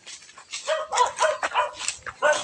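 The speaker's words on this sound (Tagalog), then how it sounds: "Dito mga aso bossing" Several dogs bark and yip in quick, overlapping bursts at a relocation site in Tanza, Cavite, fairly close and loud, with some whimpering tones between barks.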